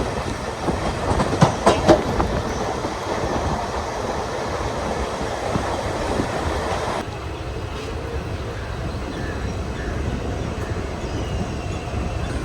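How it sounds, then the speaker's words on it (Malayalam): Nilambur–Shoranur Rajya Rani passenger train pulling into Shoranur station, a steady rolling rumble with clicking wheel beats early on, sustained and fairly close throughout. "8:35 ആയപ്പോഴേക്കും നമ്മുടെ നിലമ്പൂർ ഷൊർണൂർ റാണി പാസഞ്ചർ ഇവിടെ ഷൊർണൂരിലേക്ക് കയറിക്കൊണ്ടിരിക്കുകയാണ്"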